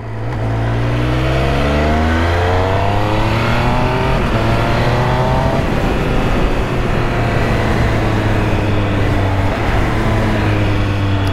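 Triumph Triple RS three-cylinder motorcycle engine heard while riding, loud and close throughout, with rising and falling harmonic tones as it accelerates through gears and a steady wind roar underneath; no talking.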